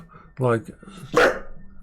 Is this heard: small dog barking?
yes